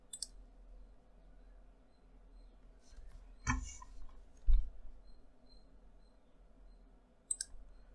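Mouse wheel button clicks in Siemens NX 2312 CAD software, a few sharp isolated clicks near the microphone over a quiet low hum, with a double click around the middle and another near the end.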